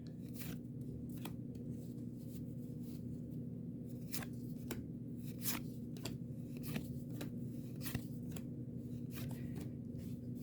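1984 Topps baseball cards from a vending box being handled, with sharp papery flicks and slides of cards recurring every second or so, close and quiet over a steady low background hum.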